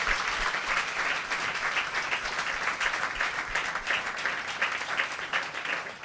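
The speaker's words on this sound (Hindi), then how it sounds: "ताली बजाएंगे यीशु के लिए" A church congregation applauds for Jesus at a New Year service, dense continuous clapping at a steady, fairly loud level throughout with no voices standing out.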